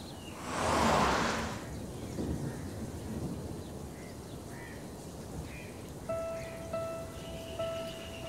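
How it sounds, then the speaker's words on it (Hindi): Heavy rain pours down at a cab stand, a strong rushing burst early on, then a steady hiss with a few faint rumbles. Some brief tones come in near the end. "बहुत बारिश हो रही है, हम लोग फंसे हुए हैं।"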